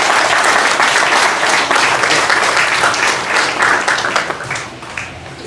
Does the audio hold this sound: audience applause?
yes